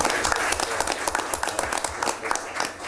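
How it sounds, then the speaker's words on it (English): Audience applause at a city council meeting in Greenwood, a steady spread of clapping from a room of people, moderately loud and continuous throughout with no talk over it. "if you would give those a round of applause, I appreciate it."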